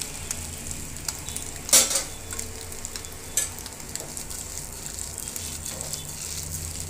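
Okra pieces frying in a pan with fried egg give a steady, close sizzle, broken by two sharp clinks of a utensil against the pan early on, with no voices.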